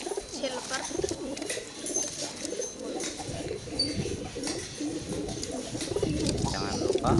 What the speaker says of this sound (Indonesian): ini juga merpati baru saya